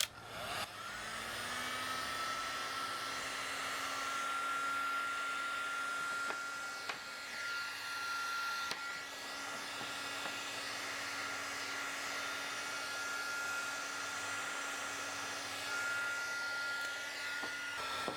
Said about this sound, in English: We'll go ahead and heat shrink it.